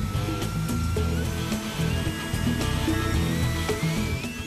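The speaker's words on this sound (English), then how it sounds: "It's now time to power up this motor at the test station." A model aircraft ducted fan motor runs on a test station, a steady loud electric whine with a rising tonal pitch held continuously throughout, with no voices.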